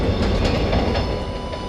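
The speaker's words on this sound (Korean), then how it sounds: "집 앞으로 달리는 기차 구경하기입니다" A train rolls past right in front of a house, a loud, close rumble with rhythmic wheel clatter over a brief stretch, with no voices.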